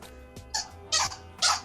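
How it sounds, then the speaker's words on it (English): Dog making odd squeaky, whimpering yips while playing with a squeaky toy, three short bursts spaced about half a second apart, fairly close and moderately loud. "that's a funny noise for a dog to make"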